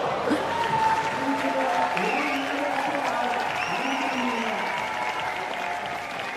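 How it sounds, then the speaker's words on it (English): Crowd at a Dock Masters dock-diving dog finals cheering and applauding after a performance, sustained clapping with voices and shouts mixed in. "Hear the crowd there. You could hear how psyched everyone was."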